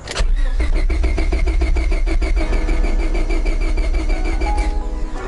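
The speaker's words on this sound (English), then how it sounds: "get the oil pumps going and also trying to get just everything primed" A wrecked Honda Civic engine cranking to prime the oil pump, a steady rapid chugging starter churn that runs throughout at close range with no speech.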